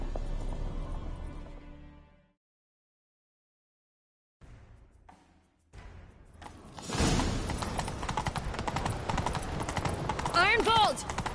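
Horse hooves galloping in The Witcher 3 during a chase, a rapid thudding rhythm that begins a few seconds in after a quiet stretch and runs loud and steady to the end, mixed with game music and effects.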